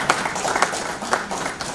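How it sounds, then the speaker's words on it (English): Conference audience at a renewable energy expo clapping in a hall, a steady, moderately loud patter of many hands with occasional sharper claps, no voices over it. "Let's give them a round of applause."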